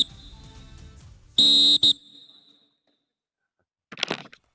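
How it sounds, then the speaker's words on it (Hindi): Referee's whistle at a kabaddi match between Nilgiri Knights and Chambal Challengers, YKS Summer Edition 2023: a loud, shrill double blast close by, preceded by a commentator speaking and followed by a short burst of crowd noise. "और क्या सीटी बजने वाली है यहाँ पर।"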